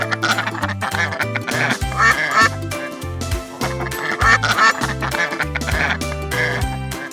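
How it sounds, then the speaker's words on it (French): A duck quacks repeatedly in a rhythmic series of loud nasal quacks, set against a bouncy musical backing with a strong, regular bass line. "Canard."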